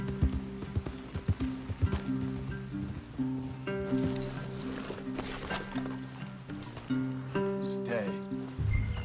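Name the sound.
horses in video game Red Dead Redemption 2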